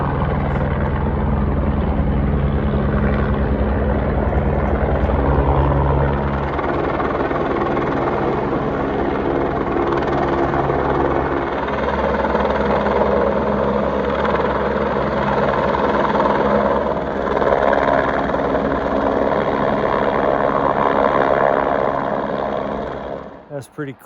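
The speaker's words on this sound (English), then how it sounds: "I just watched a helicopter come in here and land." A helicopter lands at Roaring Springs in the Grand Canyon, its loud, close rotor and engine drone steady and throbbing for about twenty seconds before cutting away abruptly at the end.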